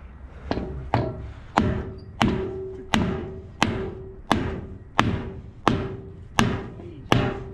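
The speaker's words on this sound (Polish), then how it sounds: "Deską będę bił małym młotkiem." A small hammer strikes a wooden board at a threshing machine, a steady series of about a dozen sharp, close knocks spaced roughly half a second apart, each with a short ringing decay.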